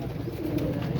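Low, steady cooing from a large flock of pigeons, including red-marked, spotted and Kalpatta birds kept for sale, a dense close murmur filling the short moment without any talk.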